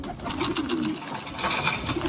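Pigeons in a breeder's loft coo softly and steadily in the background, a continuous murmur of bird calls at moderate distance with no clear talking.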